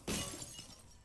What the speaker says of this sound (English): Smash the wine glass.